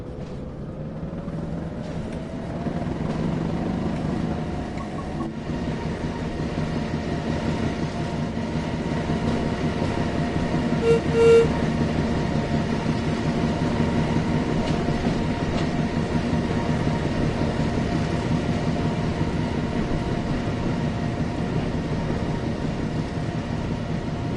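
A train pulling carriages in Train Sim World 3 on a West Cornwall local route: a steady, loud rolling rumble with a low engine drone builds after a few seconds and carries on evenly, with a faint brief tone near the middle and no talking.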